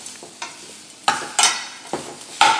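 Spicy suran roast, elephant foot yam, being tossed in a hot pan, with soft sizzling under a handful of sharp scraping stirs and clatters spaced irregularly.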